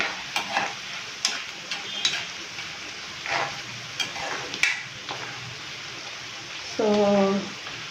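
Okra frying in a pan with onion and masala, a steady close sizzle broken by scraping stir strokes, with a brief tonal clink near the end.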